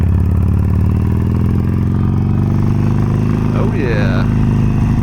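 A Harley-Davidson Sportster Forty-Eight engine rumbles loud and close while riding, a deep steady thrum that rises as the throttle rolls on, with someone speaking briefly over it.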